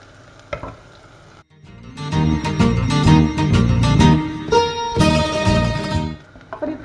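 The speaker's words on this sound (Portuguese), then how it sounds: "Frita bem. Coloca um pouquinho de óleo para não deixar queimar a cebola" Onion frying in butter with a splash of oil for a mushroom risotto, a loud, dense sizzle with stirring clatter that rises sharply after a quiet start and stays busy throughout.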